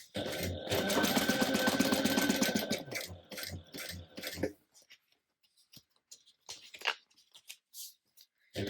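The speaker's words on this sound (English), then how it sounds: "I'm going to stitch around this, stitch it closed at a 1/4 inch" A home sewing machine stitching the interior pieces of a mini tote bag closed at a quarter-inch seam, running steadily for several seconds, then stopping and giving way to faint scattered handling noises.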